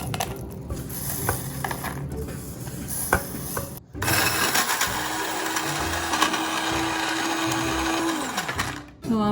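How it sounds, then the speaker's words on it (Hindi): Fox nuts and sesame seeds spin in an electric kitchen grinder, a loud steady whirring roar that runs for several seconds after some earlier handling noise, then cuts off near the end. "अब ये जो मखाने और तिल हैं, इनको हम ग्राइंड कर लेंगे।"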